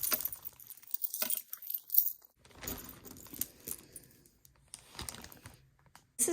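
An art glass bead necklace, a long statement piece from a thrift-store jewelry bag, clinks and rattles as it is handled, in uneven bursts of jangling separated by brief quiet pauses.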